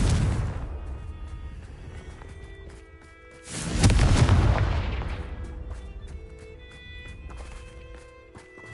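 Fire spell blasts in Hogwarts Legacy, a video game, go off as a deep booming explosion with a long rumbling tail, amid crackling game effects and lighter bursts before and after.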